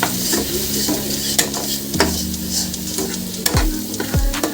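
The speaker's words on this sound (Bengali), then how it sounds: "আর দিয়ে দিচ্ছি হলুদ গুঁড়ো হলুদটাকে ভালো করে মিক্স করে দেবো" Turmeric powder stirred into a sizzling egg curry in a pan, with steady frying hiss under repeated scraping strokes of a spoon against the pan, close and fairly loud.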